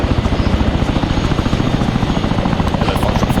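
Helicopter in the military game ArmA 3, a loud steady rotor chop with a continuous engine whine filling the whole stretch, close and unbroken with no voices over it.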